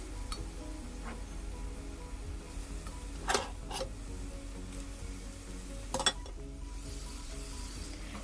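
Tomatoes sizzle in masala in a pan for Kerala chicken peralan, a steady low frying hiss broken by a couple of louder stirring scrapes and clinks.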